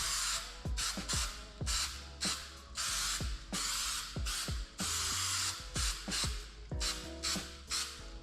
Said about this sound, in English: Make sure you're getting good, even coverage. Don't be shy to spray this adhesive.